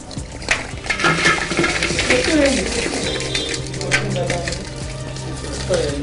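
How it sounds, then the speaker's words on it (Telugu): Pounded jaggery tumbles into a brass pan (kalai) for Bandar laddu, giving irregular scraping clatters and dull knocks over a busy, noisy room background. "ఇది అలా కొట్టి దంచిన బెల్లాన్ని కళాయిలో వేసుకుంటాం"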